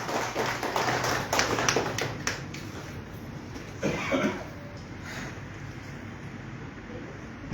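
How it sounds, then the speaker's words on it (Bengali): An audience applauds in a hall to honour Rammohan Library at an Independence Day patriotic song evening, with a burst of scattered claps that thins out, then returns briefly, with voices murmuring underneath. "এই জন্যে আমি সবার কাছে একটা জোরে হাততালি চাইছি"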